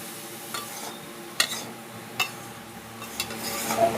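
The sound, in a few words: bottle gourd stir-frying in a pan for egg lau curry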